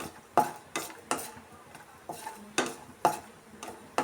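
Cashews fry in a pan for moong dal payasa while a spoon scrapes and stirs them in repeated sharp strokes, several distinct clinks and scrapes over a faint sizzle, close and fairly quiet.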